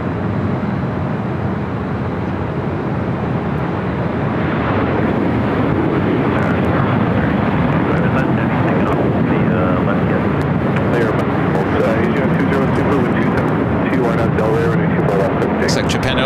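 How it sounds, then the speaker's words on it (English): An Airbus A380 takes off at LAX, its jet engines forming a loud, broad, continuous roar that fills the whole stretch, with a person talking over it. "once the A380 takes off here"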